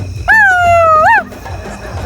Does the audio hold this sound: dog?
yes